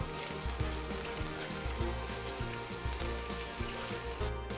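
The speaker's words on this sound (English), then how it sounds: "Okay, that's our bacon. Kind of in the first phase, it's all sizzling." Strips of bacon sizzle in a frying pan in their early stage, just turning translucent: a steady, close, dense crackling hiss with scattered pops, no voices.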